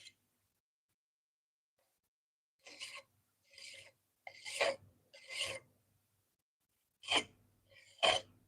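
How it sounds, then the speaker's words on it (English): The burr is rubbed off a knife edge by hand in six short, rough scraping strokes with quiet gaps between them. The strokes are close and faint, and no one speaks. "Sometimes you just want to manually get that burr off of there."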